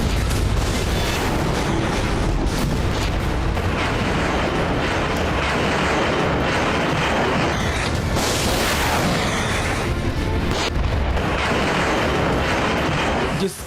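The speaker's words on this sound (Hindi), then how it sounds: "पुतिन ने सुपरसोनिक मिसाइल का धमाका कर दिया" Dense, continuous roaring blast noise with rumbling booms, consistent with a supersonic missile launch or explosion, loud and unbroken for over thirteen seconds with no voices.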